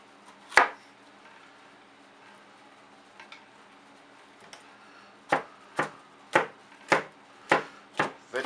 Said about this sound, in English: Look how I cut the jalapenos, very chunky